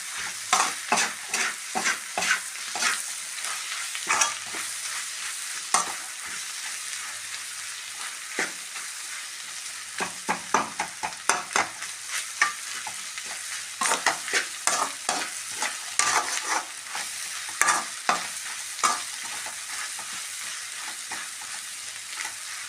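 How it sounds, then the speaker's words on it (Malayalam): Egg mixture with crushed black pepper stirred and frying in a pan, a steady soft sizzle broken by frequent quick scraping strokes of the spoon, close and alone throughout. "എല്ലാം കൂടി നന്നായിട്ട് ഫ്രൈ ആവണം. പിന്നെ നന്നായി ഇളക്കി കൊടുക്കാം."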